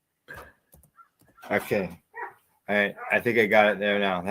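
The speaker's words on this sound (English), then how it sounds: "you'll have to excuse the dog barking" A dog barks indoors in a few short bursts mixed in with close conversational speech, the barks partly masked by the talking voices.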